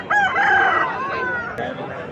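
A single loud rooster crow rings out close at a Vijayawada poultry market, one long drawn-out call lasting about two seconds over faint background noise.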